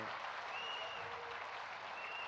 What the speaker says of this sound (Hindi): हम तालियों की गड़गड़ाहट कर रहे हैं